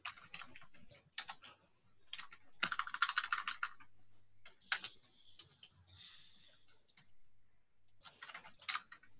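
Furious typing on a computer keyboard, rapid bursts of close clicking keystrokes with short pauses between flurries, alongside faint background murmur and occasional soft talk.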